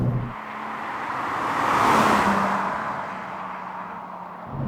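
A 2003 MG ZS 180 being driven, its engine note a steady hum that swells and fades gently under road and cabin noise.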